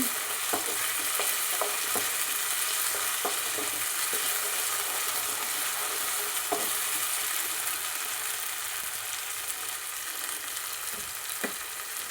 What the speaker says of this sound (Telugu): బాగా పచ్చి వాసన పోయేలాగా బాగా ఫ్రై చేసుకోవాలండి